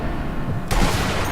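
A sniper rifle shot in the video game Sniper Elite V2 cracks out loudly once, a sudden booming blast following a moment of low ambient rumble, with a brief rolling tail afterward.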